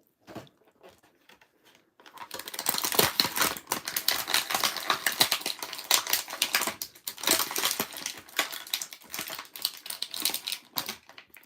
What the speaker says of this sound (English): I have to cut these little ties again.